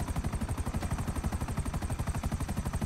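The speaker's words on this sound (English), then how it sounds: "We'll try it with the machine gun first" A machine gun in the video game Grand Theft Auto V fires one continuous rapid burst at an even, fast rhythm, with each shot distinct, lasting the whole stretch at a moderate level.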